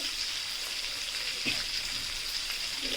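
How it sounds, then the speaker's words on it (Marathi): Mackerel pieces frying in oil in a pan give a steady, even sizzle and crackle throughout, with a few soft pops along the way and no voices. "मच्छी फ्राय करण्यासाठी सोडल्यानंतर ना अल्टीपल्टी करायची अजिबात घाई करायची नाही"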